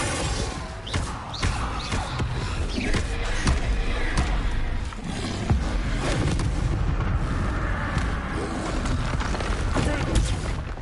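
Booming spell explosions from the Bombarda charm in the video game Hogwarts Legacy erupt repeatedly in a loud battle, with heavy thumps and blasts mixed with other spell effects and a voice calling out.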